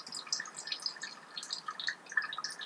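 Engine oil drips from the drain of a 2015 Subaru Outback 3.6L during an oil change, a faint, steady patter of small liquid drops heard close and alone.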